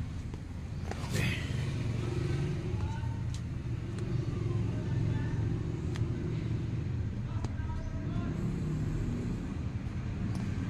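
A customer's vehicle engine idles steadily in a workshop after being scanned, a low continuous rumble with faint clicks over it, fairly close and alone.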